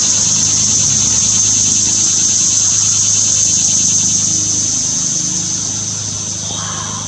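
A large cicada sings in a loud, steady, continuous buzz heard up close, holding without a break and easing off slightly near the end.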